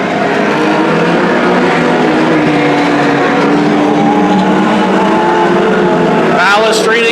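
Mini stock race cars roar around Petaluma Speedway, engines droning steadily and loud throughout as a commentator talks over them.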